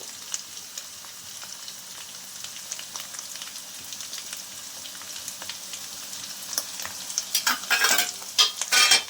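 Spices with salt, sugar, turmeric and chili powder fry in a pan while being stirred, giving a soft continuous sizzle with faint scraping that swells into louder, choppy stirring bursts near the end.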